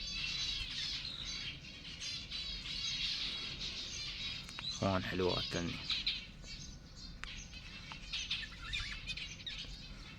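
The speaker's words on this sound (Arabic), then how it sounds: "هنا طيور حب، طيور حب عندي" Lovebirds in a cage chirp and squawk continuously at close range, with a fast-paced, busy chatter. Someone talks briefly partway through.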